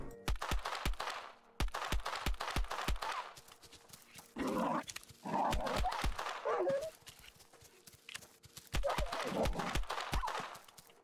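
Dogs snarl and bark in the survival shooter game Will To Live Online, set against a rapid series of sharp gunshots in bursts, with short gaps of quiet between volleys.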